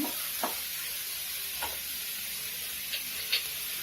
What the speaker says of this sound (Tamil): கட் பண்ணி வச்சிருக்கிற 2 வெங்காயம் போட்டுடலாம். நல்லா வதக்கிக்கோங்க.